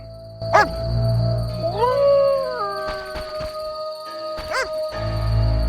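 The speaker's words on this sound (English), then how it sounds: "That dog seems to be looking for something." A dog in the video game The Witcher gives a long, wavering whine and a few sharp yips, close and loud over a low droning game soundtrack.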